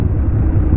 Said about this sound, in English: Toyota Prius.